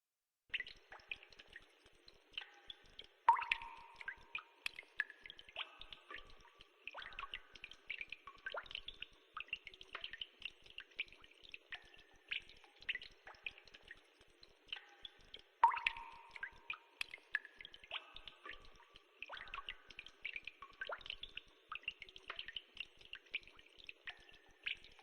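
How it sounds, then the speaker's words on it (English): Water drips in a cave scene, a sound effect of many small, irregular plinks and drops echoing faintly throughout, with a few louder splashes recurring, and no talking. "I should probably put some drips."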